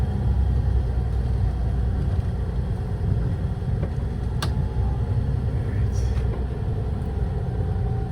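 A vehicle engine runs steadily throughout, a continuous low rumble with broadband road and wind noise, close and even in level, with no speech.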